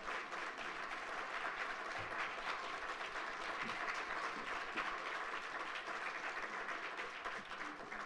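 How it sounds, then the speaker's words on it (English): Audience applauding panelists at the close of a panel discussion: sustained, dense clapping from a crowd that holds steady and fairly loud throughout with no speech over it. "Let's give all of our panelists a big, big round of applause."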